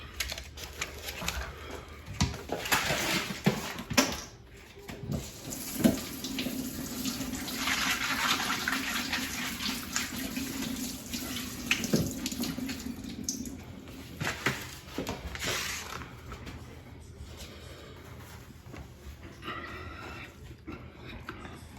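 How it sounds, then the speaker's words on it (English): Running tap water rinsing a raw eel steak in a sink, a steady splashing stream with shifting clatter and handling noises throughout, fairly close. "So I'm going to rinse this off"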